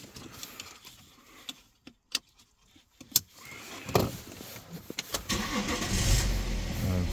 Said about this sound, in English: start car and see what we have